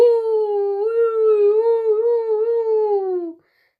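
Again a storyteller's voice imitates a jackal howling in a Marathi bedtime story of a camel and a jackal, a single sustained, slightly wavering tonal wail, close and loud, ending with a quick downward slide.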